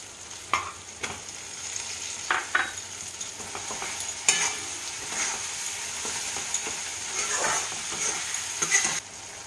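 Chopped tomatoes sizzle and fry in a pan with a steady hiss, punctuated by sharp stirring scrapes and clinks from a spoon at irregular intervals, close and moderately loud, with no talking.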